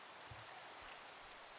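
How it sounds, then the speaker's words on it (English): Rain falling in Minecraft, a soft, even hiss of steady drops with no breaks, quiet and continuous, without any voices. "Oh, and it's raining."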